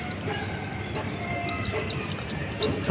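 A young pigeon squeaks repeatedly in short high chirping bursts, close by, while being fed chickpeas by hand, over a soft background of handling noise.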